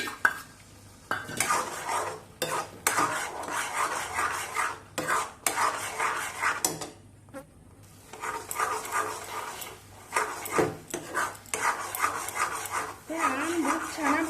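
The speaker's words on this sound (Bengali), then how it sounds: "গরম কড়াই একটু নাড়তে থাকবো" A spoon stirs a ripe mango sweet mixture in a hot wok, giving repeated scraping and clattering strokes against the metal in uneven bursts with short pauses, and a faint sizzle underneath.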